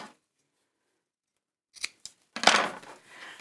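Sharp scissors snipping the corners off a sewn fabric bag: a couple of crisp, close cuts after a quiet pause, then a longer slicing snip through cloth.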